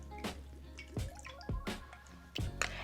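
Soy sauce poured over a no-cook spaghetti salad with veggies, herbs and ginger, heard as several close, soft wet drips and squishy splashes spaced about half a second apart.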